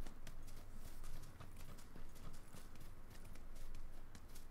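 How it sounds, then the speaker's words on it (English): Steady clip-clopping footsteps of a teammate in PUBG, rapid and continuous over a dense noisy background of ambient rumble and hiss. "Well, here's his footsteps."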